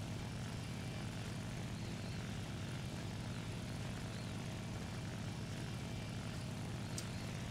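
A propeller fighter plane in War Thunder drones steadily, a continuous engine roar with no talk over it.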